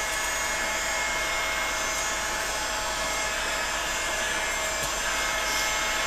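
A heat gun blows hot air onto a PVC grip for a Turkish-style bow. It gives a loud, steady whooshing drone close to the microphone that runs unbroken throughout, with no talking.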